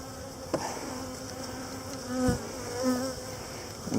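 Honey bees swarm around a hive frame feeder during a first-time hive inspection, a close, continuous buzzing drone that swells as individual bees pass near, with a faint knock or two.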